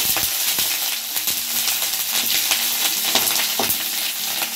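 Grated ginger and green chillies fry and get stirred in a hot pan, a dense continuous sizzle broken by soft scraping strokes of the spoon, close and fairly loud with no talking.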